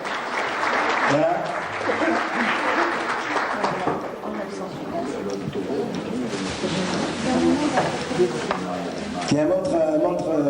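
Audience applause at a pigeon competition in Grasse, steady clapping through the whole stretch with cooing birds and a voice talking over it, a single word spoken near the end.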